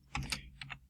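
Computer keyboard typing, a short run of several crisp close keystrokes in quick uneven rhythm, alone without talk.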